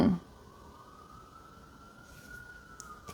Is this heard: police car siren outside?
yes